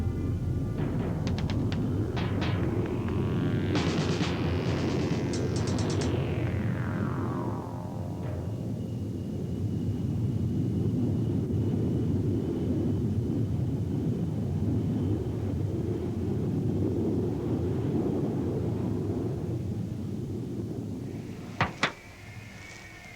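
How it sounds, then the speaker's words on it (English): A jet engine roars with a steady broadband rush, its high whine sweeping downward early on, followed by a couple of sharp clacks near the end. "The jet engine."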